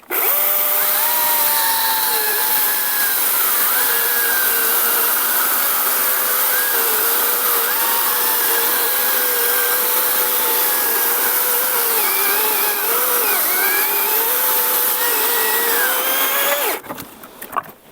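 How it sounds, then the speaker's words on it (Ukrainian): A cordless saw, Procraft PKA48Li or Zomax ZMDC 501, ripping through oak, giving a loud, continuous whining buzz with slight pitch wavers that runs unbroken for about seventeen seconds before stopping abruptly. "давайте пробуємо розпускати дуб"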